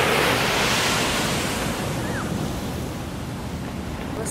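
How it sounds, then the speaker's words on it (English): Large ocean waves breaking and rushing at Halona Cove on Oahu, a loud continuous roar of surf with wind buffeting the microphone, no voices. "check out these huge waves."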